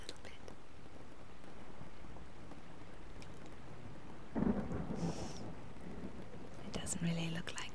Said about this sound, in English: It doesn't really look like this rain is going to let up anytime soon, does it?